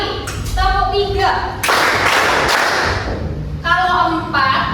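A group claps together in unison, a dense burst of hands striking roughly three times close by, with people talking before and after.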